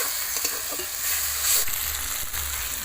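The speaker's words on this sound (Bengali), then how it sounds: "দিয়ে দেবো টমেটো কুচি আর ধনেপাতা কুচি, আবারও কিছুক্ষণ আমি নাড়াচাড়া করে নেব।" Fish curry with chopped tomato and coriander sizzles and fries in a pan while being stirred, a continuous close hiss broken by soft scraping knocks.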